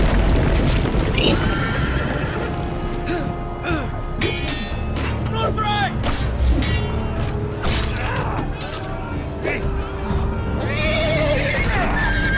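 Horse neighs and whinnies ring out from a Game of Thrones video game, with clip-clopping hooves and clanking, booming battle effects, loud and repeated throughout.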